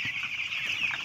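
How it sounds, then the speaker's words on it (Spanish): Mixed male and female broiler chickens suffering from hoarseness cluck briefly in a pen, a short, moderately close burst of farmyard fowl calls with no voices. "los pollos están grandes, estos son mixtos, acá hay machos,"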